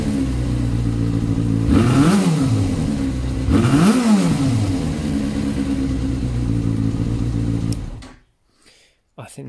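Yamaha FZ6 motorcycle with its stock airbox, idling loud and steady with two sharp throttle blips rising and falling in revs, then cutting off abruptly near the end.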